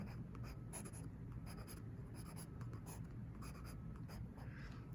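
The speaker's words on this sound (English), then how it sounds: "So let's draw one here." Pen or marker strokes drawing a block shape on a writing surface, a steady run of scratchy, quiet marks close by with no talking.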